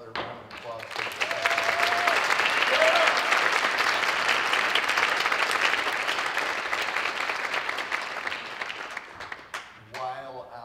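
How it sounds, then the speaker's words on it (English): A concert audience at a student engineering ensemble performance bursts into loud, sustained applause that swells, holds and then thins out, with a voice heard briefly at the start and again at the end. "Let's have another round of applause for that."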